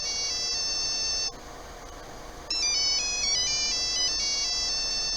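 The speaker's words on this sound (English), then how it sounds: "mobile phone was heard" A mobile phone ringtone plays a bright electronic melody, pauses briefly, then resumes with a stepping tune, fairly close and loud.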